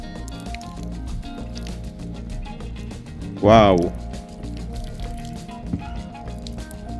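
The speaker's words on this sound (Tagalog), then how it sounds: "Ayan, so try natin ibuhos tong tubig. Ayan, kung makikita ninyo, talagang tumatalbog lang yung tubig niya, oh." Water poured from a container onto a thick waterproof motorcycle cover gives one short splashing burst midway, over low background noise, while a person briefly speaks.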